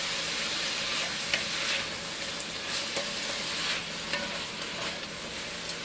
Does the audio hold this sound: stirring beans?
yes